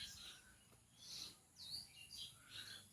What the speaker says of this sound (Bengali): কিচিরমিচির পাখির ডাক